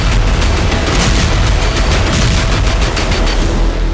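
Wartime strikes by HIMARS on Russian army positions produce a dense, rapid barrage of loud gunfire-like bursts and booms, sustained without pause.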